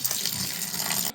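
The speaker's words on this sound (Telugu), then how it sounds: "నేను నార్మల్ వాటర్ వేస్తున్నాను" Plain room-temperature water poured onto boiled noodles for chicken noodles, a continuous gushing stream like a running tap, close and steady, stopping abruptly at the end.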